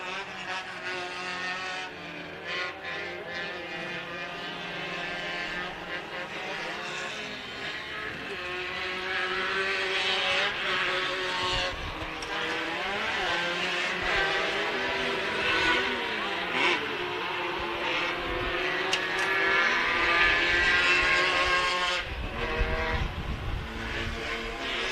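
Modified karts race at Glen Helen Raceway, their high buzzing engines rising and falling in pitch as they pass and shift, loud and close throughout, under continuous commentary from an announcer.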